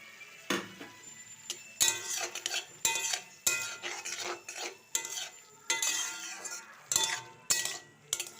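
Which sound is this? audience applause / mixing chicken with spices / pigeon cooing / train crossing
mixing chicken with spices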